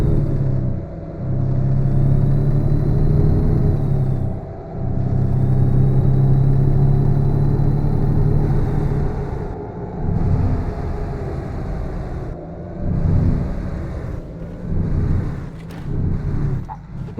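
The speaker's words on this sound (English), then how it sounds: "I'll let you guys hear the engine brake" A loud, steady engine rumble from an International LT heavy truck in American Truck Simulator, with a deep drone that surges and falls back as the engine brake cuts in and out.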